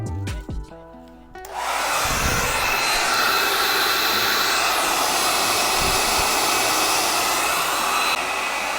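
Heat gun switched on and blowing steadily while warming a wrap sticker on an LO206 CompKart go-kart, a loud continuous roaring whoosh after a few clicks and bumps.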